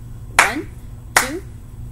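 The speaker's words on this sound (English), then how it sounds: "we're going to first clap and count it" Two sharp hand claps spaced about three-quarters of a second apart, close and crisp, each with a brief ringing tail over a quiet background hum.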